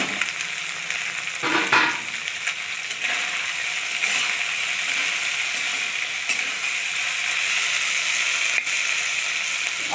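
Onions and green chillies fry in a pan with a steady, close sizzle that crackles continuously and evenly from start to finish, with no voices.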